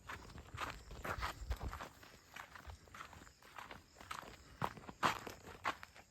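Footsteps walking carefully through thorny jungle brush, a quiet, uneven series of crunching and rustling steps with occasional snapping twigs.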